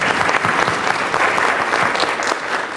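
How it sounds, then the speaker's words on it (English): An audience applauds for Donna at a meeting, with steady, dense clapping that stays loud and even throughout without pause. "Let's have a round of applause for Donna."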